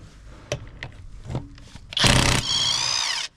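A Skil 3285 XP cordless impact wrench on its second mode: a few sharp clicks and knocks, then a loud close burst of rapid hammering that settles into a steady high whine before cutting off.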